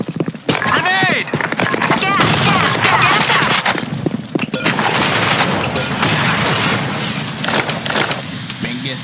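Gunfire and a grenade blast in a multiplayer shooter video game, dense bursts of shots and impacts packed throughout, loud and busy, with players talking over the action.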